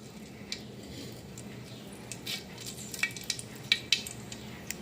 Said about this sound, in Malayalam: കടുക് നന്നായിട്ട് പൊട്ടട്ടെ.